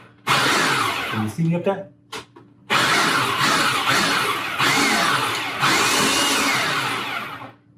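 A kitchen blender pulsing chopped onions for bourbon bacon jam runs in loud, close bursts, with a brief stop-start near the beginning followed by several long whirring spins; a voice speaks briefly early on.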